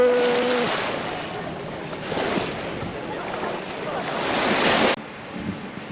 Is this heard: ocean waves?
yes